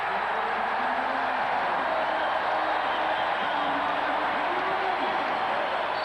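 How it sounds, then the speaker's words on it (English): Cleveland crowd at a basketball game against the Chicago Bulls at the Richfield Coliseum, a broad sustained roar of cheering that stays loud and even throughout, with a commentator's voice faintly underneath. "the crowd doesn't care. They're still going wild over Ron Harper's spectacular play"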